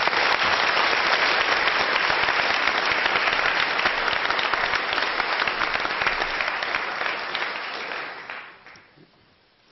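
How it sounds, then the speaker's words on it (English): Warm applause from a university audience at Cambridge, a dense steady roar of many hands clapping close and loud, holding for about eight seconds before fading quickly. "So please give a warm round of applause."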